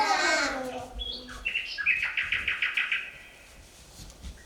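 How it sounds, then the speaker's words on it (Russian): Songbirds sing in a forest on a kindergarten outing, a clear chirping call followed by a rapid rhythmic trill of repeated notes, fairly close and alone against quiet background. "Дети, слышите голоса птиц?"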